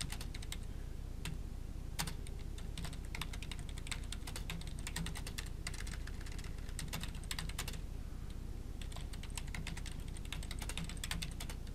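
Rapid, uneven clatter of fingers on a computer keyboard, close and continuous with brief pauses between bursts of keystrokes while filling in database setup fields; no one speaks.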